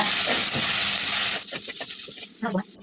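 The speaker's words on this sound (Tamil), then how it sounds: "சேர்த்துட்டு வெங்காயத்தை நல்லா சாஃப்டாக வதக்கிக்கோங்க" Chopped onion and garlic sautéing in a pan for an ivy gourd curry. A loud, bright hiss lasts over a second, then drops to a quieter crackle while someone speaks.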